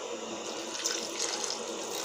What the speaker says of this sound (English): So guys, I need to add a little bit of water.